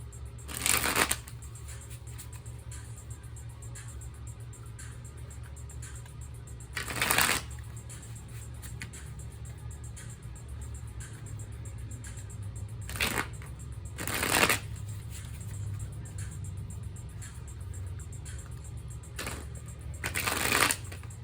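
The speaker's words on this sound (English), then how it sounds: "normally I'm able to do a smooth shuffle" Tarot cards are shuffled in several brief riffling bursts, separated by quiet stretches with a faint steady background hum.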